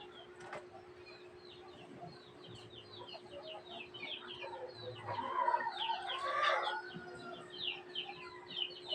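Newly hatched chicks peeping quietly beside a mother hen, soft high cheeps close by over a steady hum, with clucking rising in the middle.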